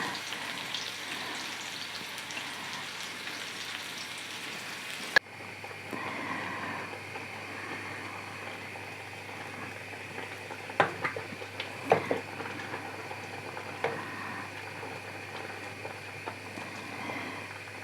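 A pot of salted, peppered cabbage simmers quietly with a soft bubbling hiss, and a few sharper pops and clinks break through near the middle.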